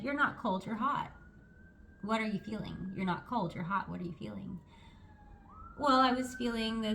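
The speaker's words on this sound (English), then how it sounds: "sorry for the sirens" A police siren passes outside, its faint, drawn-out wail rising and falling between and beneath close indoor speech.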